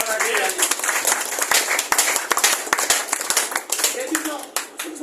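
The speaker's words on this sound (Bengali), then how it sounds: "জোরে একটা হাত তালি যায়।" Scattered claps from an audience at a health talk, sharp uneven hand strikes that rise and fall in density while a voice keeps speaking over them.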